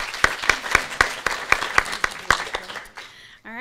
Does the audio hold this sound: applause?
yes